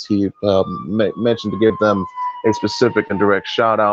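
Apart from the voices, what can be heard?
siren in the background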